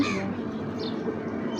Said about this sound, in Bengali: কোকিল ডাকছে